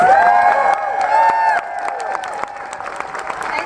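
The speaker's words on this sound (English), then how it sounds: "let's give them a round of applause" Applause and cheering from an audience at a political rally, loud and dense at first, then easing slightly while clapping and shouts continue throughout.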